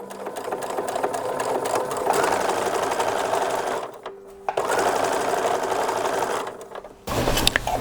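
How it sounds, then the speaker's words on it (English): A sewing machine stitches an eighth-inch narrow hem along the edge of a 1930s–1940s style infant slip, running in steady bursts with brief pauses between passes, close and fairly loud, with no talk. "So for the narrow hem, it's about an 1/8 inch hem, and we'll stitch it at the very edge of that."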